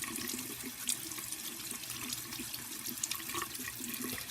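Tap water runs steadily over a makeup sponge being cleaned in a sink, a continuous close splashing gush with small irregular splatters as the sponge moves under the stream.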